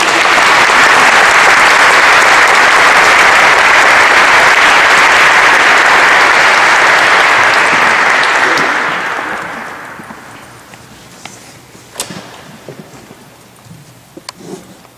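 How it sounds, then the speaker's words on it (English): An audience at a pro-life talk applauds loudly and steadily for about nine seconds, then the clapping fades to a few scattered claps and quiet room noise. "So a round of applause."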